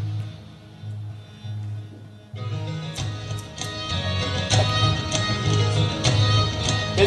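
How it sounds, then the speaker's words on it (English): Medieval-style reference music for a game, played at low volume: a soft sustained tone first, then fuller instrumental music enters a little over two seconds in and carries on steadily with no voices. "Basically a very medieval kind of sound"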